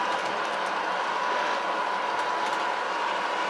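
An MTH O-gauge Brill model trolley climbs a grade on a layout, giving a steady, soft mechanical running hum with faint clicks and no voices.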